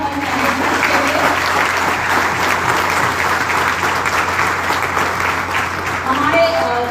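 Loud, sustained applause from a corporate event audience honoring management at an RBC gathering in Goa, steady clapping filling the whole stretch with faint voices mixed in.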